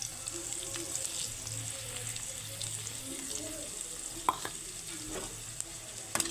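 Ginger paste with cumin, coriander, turmeric, chilli powder and salt sizzles softly in a pan with fried potatoes for a cabbage curry, stirred now and then with a few faint utensil clicks.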